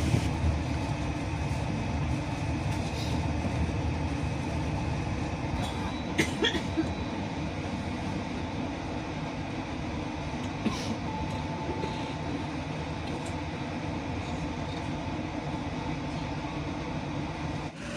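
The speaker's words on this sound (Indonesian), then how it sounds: "KA Progo kembali diberangkatkan dari stasiun Kebumen jam 5:35 menit" KA Progo economy train pulling out of Kebumen station in Indonesia, a steady loud rumble of rolling wheels and carriage noise with occasional clanks, continuous throughout with no talking.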